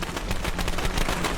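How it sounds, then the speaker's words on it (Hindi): Firecrackers bursting in a rapid, dense string of sharp cracks and pops, loud and continuous with no pauses. "पटाखों की आवाज आने लगी।"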